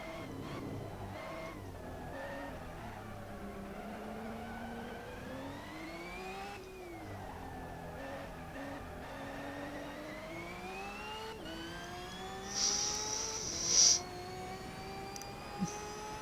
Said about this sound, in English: This sounds like an electric car.